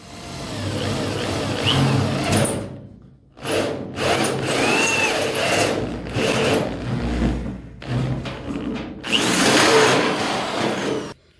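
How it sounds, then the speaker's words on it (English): Loud power drill whirring in repeated bursts, with brief pauses between runs as the bit bites into a metal Jeep YJ hood for louver installation, grinding and whining close by. "So we're gonna start drilling out the holes now."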